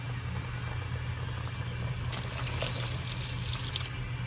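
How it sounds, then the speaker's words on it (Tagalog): Water poured into a cooking pot of humba runs and splashes steadily over a low background hum, the pouring growing brighter and louder partway through. "dagdagan natin ng konting tubig"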